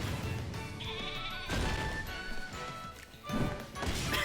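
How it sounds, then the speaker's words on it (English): Bleating from a rabid sheep attacking in a video game, several loud bleats mixed with crashing impacts over busy game sound. "It's attack of the rabid sheep."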